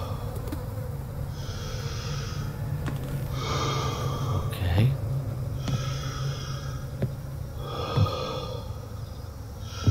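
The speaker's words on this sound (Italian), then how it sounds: "Calma, sento di nuovo respirare." Heavy, rhythmic breathing from the video game Summer of '58, slow raspy inhales and exhales repeating in cycles over a low ambient drone, with faint game sounds between breaths and a single brief spoken word.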